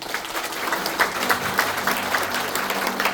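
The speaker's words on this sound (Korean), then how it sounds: "한 분 한 분 소개해 올릴 때마다 큰 박수 부탁드립니다." An audience at a Korean political party strategy seminar in Chungbuk claps warmly, with brisk, dense applause filling the room at close range throughout without any break.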